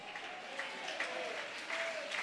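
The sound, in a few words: audience applause in church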